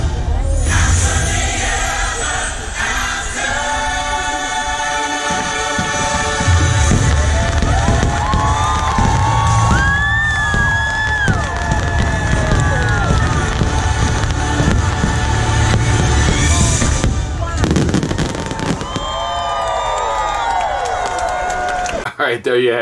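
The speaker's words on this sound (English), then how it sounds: "The fireworks are always an amazing time at the Magic Kingdom." Happily Ever After fireworks at Magic Kingdom at night: booms and crackling bursts go off through a long continuous show, under loud music and a cheering, chattering crowd, with soaring whistles and swelling cheers near the end.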